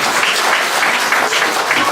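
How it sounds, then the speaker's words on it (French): A church congregation applauds loudly together, a dense, steady clatter of many hands filling the room without a break. "On applaudit bien fort l'église"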